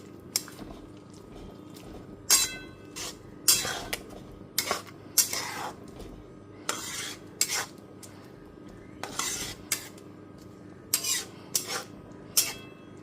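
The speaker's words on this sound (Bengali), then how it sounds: "সমস্ত ধুয়ে নেওয়া পাট শাকটাকে দিয়ে দেওয়ার পর খুব ভালো মতো একটুখানি মিশিয়ে দিচ্ছি" Washed jute leaves are stirred in a cooking pan on a low-to-medium gas flame, the metal spatula making repeated scraping clinks against the pan in an uneven rhythm over a faint steady background hiss.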